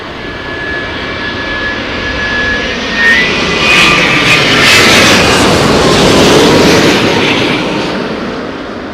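Airliner jet engines roar at Heathrow Airport in gusty storm winds, a broad steady rush that swells through the middle and eases toward the end, with no talking.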